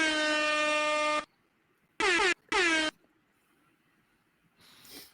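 An air horn sound effect blasts three times: a long, loud blare followed by two short, sharp honks, each alone against near silence.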